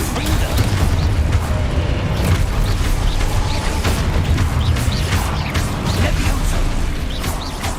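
Loud, continuous booming and rumbling crashes of a Confringo fire-spell explosion in the Hogwarts Legacy video game fill the whole stretch, with dense debris-like crackle on top.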